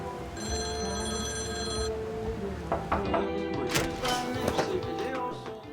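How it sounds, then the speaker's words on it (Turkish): A telephone rings with a trilling electronic bell for about a second and a half, followed by tapping, shuffling and handling sounds. "Ferhan, senin ikinci bir telefonun mu var"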